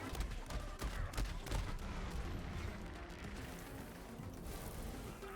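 Gunfire from a gun in Borderlands 3 rattles continuously with heavy booming impacts, a loud dense barrage that stays steady throughout.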